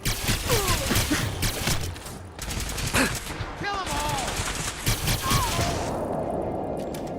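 Rapid automatic gunfire bursts in Fallout 4, loud volleys with brief pauses and tonal game effects between them, no talking.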